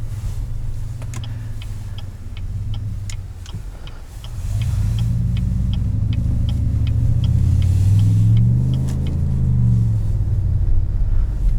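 Deep exhaust rumble from a 2019 Cadillac Escalade Platinum with a 6.2 V8, heard from inside the cabin, steady and loud with a rise in droning engine note midway, alongside faint regular ticking.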